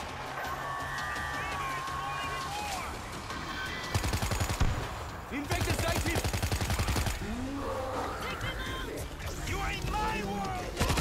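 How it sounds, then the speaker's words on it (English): A stationary mounted machine gun opens up in WWZ: Aftermath on PS5 with rapid, loud bursts, following a stretch of game noise and a speaking voice. "Got a stationary machine gun"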